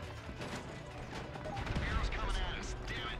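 Rocket launcher blasts and explosions in GTA Online booming through a chaotic game battle, with crashes and impacts rising toward the end while a voice talks over the action.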